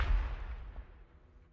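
A single Tyranid Exocrine artillery shot in a Warhammer video game, a deep, close boom that decays into a fading rumble.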